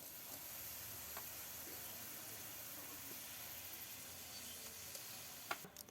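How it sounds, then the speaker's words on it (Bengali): Green chilies, chopped onion, garlic and dried shrimp fry in hot oil with a steady, even sizzle and hiss. The sound is faint and continuous, with a couple of small clinks near the end. "ভর্তা করার জন্য গরম তেলে কাঁচামরিচ আর পেঁয়াজ কুচি দিয়ে দিল। এবার আর একটু পেঁয়াজ আর রসুন কুচি দিয়ে দিল, চিংড়ি মাছের শুটকি দিয়ে দিচ্ছে"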